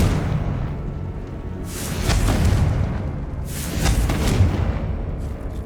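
A Confringo fire blast spell in the Hogwarts Legacy video game bursts twice as broad booming explosions with rushing whooshes, layered over a continuous low rumble of game ambience.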